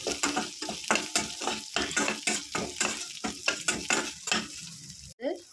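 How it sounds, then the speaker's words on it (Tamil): Spices and black pepper fry in oil for a green gram kurma while a spoon stirs them in rapid rhythmic scrapes over a constant sizzle, close and loud, ending with a sharper clink of metal. "ஆயிலில் போட்டு வறுத்துக்கலாம்"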